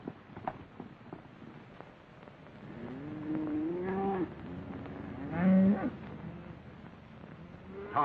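Cattle moo in brushland, several drawn-out lowing calls rising and falling at moderate distance, with the loudest bellow near the end over a quiet background.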